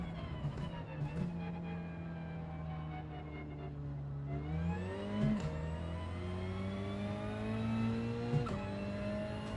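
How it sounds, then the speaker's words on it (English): A race car engine in a racing video game drones and revs with a rough, harsh tone, its pitch sliding down and then climbing again through gear changes, loud and steady with no talk. "What a horrible sounding car."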